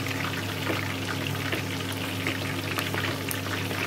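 Crispy pata, a whole pork leg, deep-fries in oil with a dense, continuous bubbling roar and scattered spitting crackles, steady and close with no voices.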